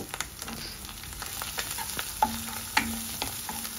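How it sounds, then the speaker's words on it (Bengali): Onion with ginger-garlic paste fries in a pan at a gentle, steady sizzle, with a few sharp clinks of a spatula stirring against the pan and no talk. "আদা রসুনের পেস্টটাকে পেঁয়াজের সাথে একটু ভালোভাবে ভেজে নিব"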